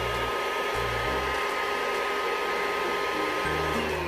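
A Kurumi KV04 handheld vacuum cleaner on its high-speed setting whirs loudly and steadily, a constant close-up motor drone with no talking.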